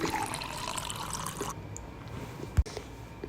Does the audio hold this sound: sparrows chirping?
no